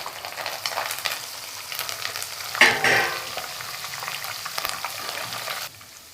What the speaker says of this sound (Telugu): ఇప్పుడు పచ్చిమిరపకాయలు ఇదే ఆయిల్లో వేస్తున్నానండి.